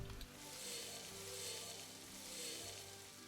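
Meat cooking over a campfire in the survival game Outward, a steady soft sizzle and crackle that holds evenly for a few seconds with no talking.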